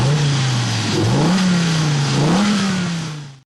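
A Dodge Viper ZB2 with its upgraded 8.4-liter, 600-horsepower V10 revs loudly and continuously up close, the pitch climbing in two steps before cutting off abruptly.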